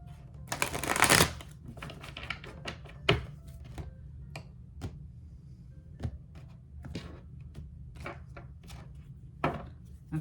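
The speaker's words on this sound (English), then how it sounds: "Let's shuffle one more time." Tarot cards are shuffled close up, a dense riffle burst at first and then scattered soft slaps and taps of cards over a low steady background hum.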